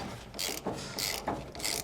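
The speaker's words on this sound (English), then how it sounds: "front and keep tightening up that nut as well" A ratchet wrench tightens a nut on a bolt of a 4-leaf double-eye trailer leaf spring, giving a few quick bursts of crisp clicking close up with short pauses between strokes.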